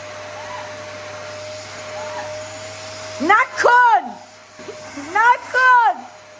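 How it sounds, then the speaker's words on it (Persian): A household vacuum cleaner runs with a steady, droning hum and a constant whine. Voices talk over it twice in short bursts. "تو جارو بکش"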